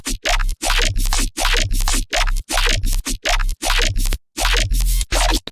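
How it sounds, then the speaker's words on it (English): Synthesized space-themed sound built from bass glitches: loud, rhythmic bursts of broadband gritty noise over a thumping low bass, chopped into repeating stuttered segments with brief gaps, no voices. "So I have this the space sound that I made with one of my bass glitches."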